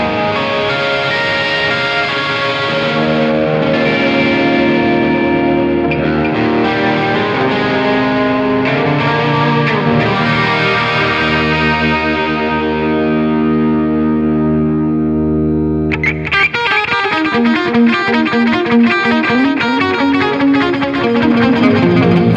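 Electric guitar chords through an Axe-Fx III preset with a sweeping pan effect whose speed is set by an expression pedal, then a switch to rhythmic triplet delay repeats, played loud and continuous with no voices.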